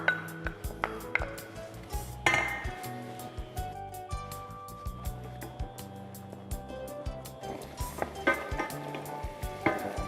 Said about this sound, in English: we'll cook up the onions and the garlic first